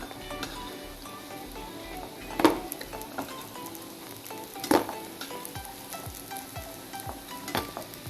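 Spinach bonda fritters frying in hot oil, a steady close sizzle with a couple of sharp clinks from a utensil against the pan.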